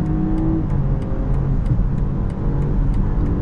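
A car in sport mode accelerates, its engine droning loud and close from inside the cabin, a steady rising hum with a faint regular ticking over it.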